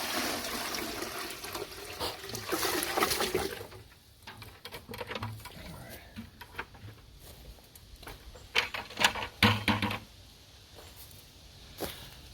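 Creek water pours into an off-grid cabin shower tank, a splashing rush that is loud at first, then settles into uneven trickling and sloshing with a few sharper knocks near the end.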